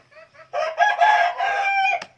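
A rooster crows once in a long, loud, close call of about a second and a half, after a brief softer lead-in, with no talking.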